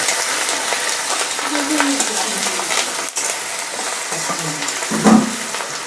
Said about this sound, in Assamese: এইখিনি অকণমান ভাজি ল'ম।